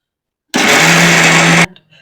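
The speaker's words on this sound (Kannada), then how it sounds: "ಇದಿಷ್ಟು ಮಿಕ್ಸಿ ಮಾಡ್ಕೋಬೇಕು ನಾವು." A kitchen mixer grinder whirs loudly for about a second, coarsely grinding chana dal, chillies, coriander and grated coconut for a fenugreek-leaf dish, starting abruptly and cutting off sharply.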